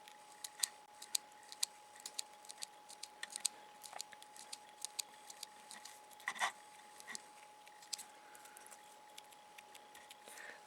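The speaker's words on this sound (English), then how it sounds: "So I'm just taking the edges off and slowly trimming." Scissors slowly trim the edges of a homemade iPad stylus tip, with faint, sparse snips and small clicks scattered over a quiet background hum.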